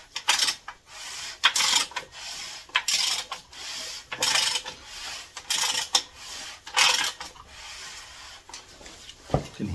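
Piston rings move inside the cylinders of a Mopar 383 V8 during a lower-end rebuild for a Polara, producing a series of rhythmic metallic scraping bursts close up, each about half a second long, with short pauses between them.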